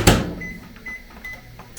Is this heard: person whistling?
no